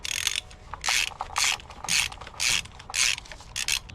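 A ratchet clicks through repeated short bursts while tightening spark plugs during a car service, about seven bright, close ratcheting strokes with brief pauses between them and no talking.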